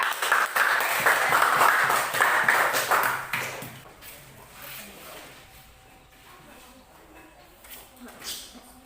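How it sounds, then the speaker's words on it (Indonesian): A classroom gives applause for a student group, with a dense burst of clapping for about three seconds that then fades into quieter room noise, with scattered taps and murmuring. "Oke, tepuk tangan untuk kelompok 3."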